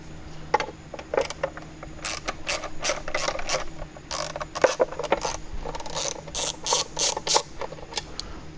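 A ratchet fitted with a Torx T20 bit backs out the airflow meter screws on an Audi A4 intake. Quick, close clicking bursts come in uneven runs with short pauses between them.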